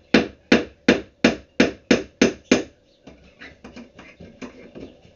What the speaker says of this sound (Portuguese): Eu vou só pregar aqui o prego, pra depois botar o parafuso.